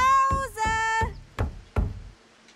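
Knocking on a door in a horror video game, five firm knocks at a steady pace, close and clear, with a short tonal chime overlapping the first few knocks; no speech.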